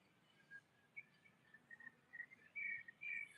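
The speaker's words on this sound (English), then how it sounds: "Listen to the bird sound in the background." Faint, high bird chirps and short whistled calls scattered over quiet ambient hiss, growing slightly louder and busier toward the end.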